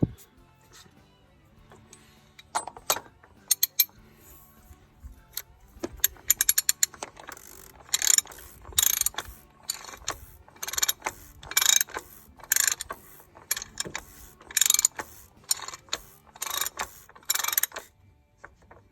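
A wrench ratchets as it snugs down the plastic oil filter housing cap on a 2008 Ford F-350 6.4L diesel, with quick bursts of clicking in uneven runs, close and moderately loud, growing denser toward the end with no talk.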